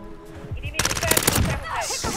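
Rapid gunfire in the battle royale video game Call of Duty Warzone, quick bursts of shots cracking loudly and close, with a brief lull before a dense volley near the end.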